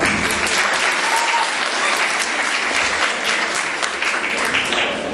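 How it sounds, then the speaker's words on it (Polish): An audience at a cabaret show applauds for Santa Claus, sustained dense clapping that fills the room evenly from start to finish, loud and close with no talk over it. "Oklaski dla świętego Mikołaja"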